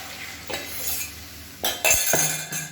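Spoon stirring dissolved toor dal into thick tomato chutney in a pan, a few scraping strokes and metallic clinks with a soft sizzle, close and alone.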